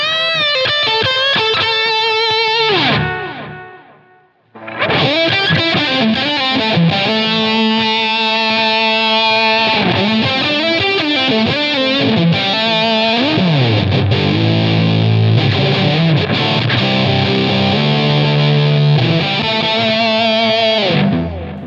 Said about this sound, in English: get a lot of cutting distortion.